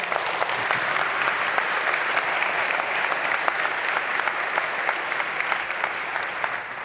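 An audience at the SVC Geneva awards ceremony applauds an honoree, dense steady clapping from a large crowd filling the room continuously, fairly loud and without a break.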